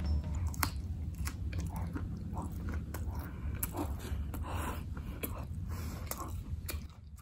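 Someone bites and chews a slice of crunchy vegan pecan pie topped with generous pecans, the close, soft crunching and mouth sounds continuing steadily under a low background hum.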